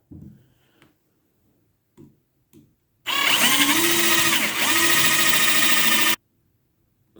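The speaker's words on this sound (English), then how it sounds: "I use a bigger size drill." A Harbor Freight Warrior 18V cordless drill driver fitted with a bigger bit drills a larger hole, giving one loud, steady three-second whine with a slight pitch dip partway through, preceded by a few faint clicks and taps.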